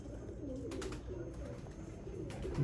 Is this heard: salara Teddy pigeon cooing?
yes